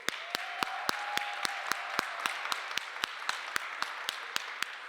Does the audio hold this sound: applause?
yes